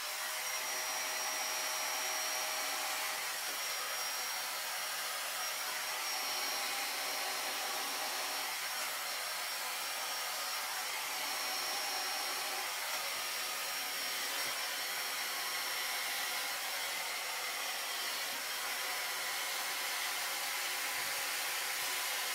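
A hair dryer roars steadily and continuously while blow-drying hair, a loud, even, breathy whoosh with no pauses for the whole stretch.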